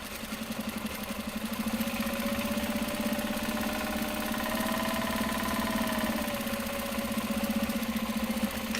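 Sewing machine stitching Japanese fabric for a knitting cake cozy, running in one continuous, fairly loud motor hum with a steady low drone and a rapid faint pulsing throughout, no voices.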